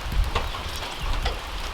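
Steady rain falls outdoors on a wet morning at a building project site during a heavy downpour, a continuous soft hiss with a few slightly louder patters, with no voices.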